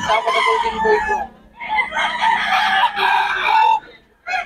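A McLean hatch gamefowl rooster at a market crows loudly and close, followed by throaty clucks and brief calls in short bursts, with faint talk in the background.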